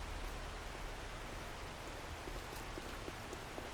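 Steady rain falls in the video game 7 Days To Die, a dense, even hiss of downpour with faint drop patter that holds throughout, and no voices.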